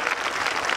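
An audience at a political speech applauds, a dense, steady wash of clapping that fills the short moment without a break.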